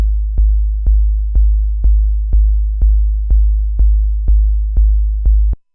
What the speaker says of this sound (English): So that's just a pure sine wave.